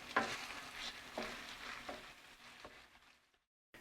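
Corned beef and root vegetable hash with leftover cabbage, packed down in a pan, fries with a steady sizzle and occasional scraping stirs. The sound fades away to silence at the end.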